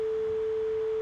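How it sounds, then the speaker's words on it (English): A pure 440 Hz sine wave tone, steady and unwavering, holding at constant loudness for the whole second without any other sound. "we can play this sine wave at 440"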